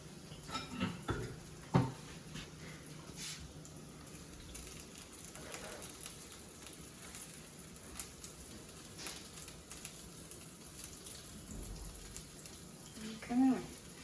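Sweet potato and tuna patties frying in a pan, a soft crackling sizzle heard up close, with occasional utensil knocks and brief talk over it.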